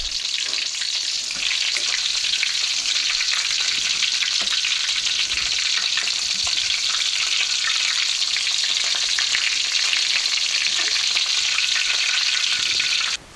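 Chicken cordon bleu fries in hot oil in a pan, a steady, loud, close sizzle with dense crackle that runs unbroken for the whole stretch before cutting off abruptly at the end.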